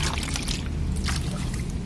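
Chili plants being watered with a pesticide mixture, a close, steady splashing pour of liquid onto leaves and soil with faint intermittent hissing sprays.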